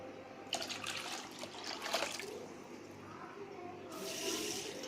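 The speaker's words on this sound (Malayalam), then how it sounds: "ഇനി ഇതിലേക്ക് കുറച്ച് വെള്ളം ഒഴിച്ചിട്ട് ചട്ടിയിലേക്ക് ഇട്ട് കൊടുക്കാൻ പോവാണ്" Water is poured from a bowl into a clay pot of crushed tomato rasam ingredients: a soft, quiet splashing trickle in two short bursts with a brief lull between, close by in a calm kitchen.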